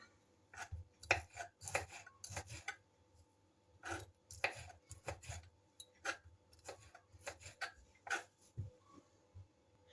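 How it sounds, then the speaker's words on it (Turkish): Knife chopping vegetables and meat on a cutting board, irregular bursts of quick close taps separated by short pauses. "Bütün malzemeleri doğradım."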